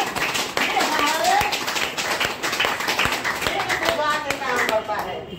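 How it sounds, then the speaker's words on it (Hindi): An audience applauds at a health talk, with steady, dense hand clapping running throughout that fades near the end. "एक बार जोरदार ताली बजाइए उनके नाम पर"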